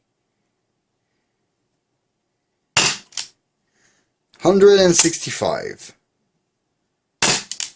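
Rekt Jury CO2 revolver blaster fires sharp, close pops, with two quick shots early, one later, and a burst at the end, while someone talks between them.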